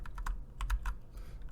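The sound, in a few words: typing an SSH command on a computer keyboard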